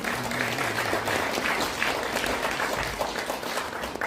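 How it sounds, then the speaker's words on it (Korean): Audience applause at an academic seminar in a hall, a sustained wash of many hands clapping at moderate level, with a faint low voice briefly audible underneath at the start. "다시 한번 큰 박수 보내주시기 바라겠습니다"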